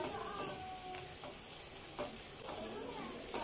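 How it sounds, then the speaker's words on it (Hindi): Spices fry in oil in a pan with a steady, soft sizzle and occasional stirring scrapes, heard close and fairly quiet with no voices. "इथं मसाले छान असे तेलात फ्राय झालेले आहेत आणि छान तेल यायला लागले आता"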